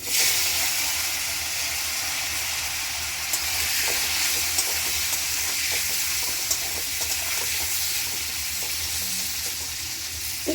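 Paneer pieces frying in butter in a pan for palak paneer, giving a steady, close, loud sizzle with small crackles and occasional stirring clicks throughout, no talking.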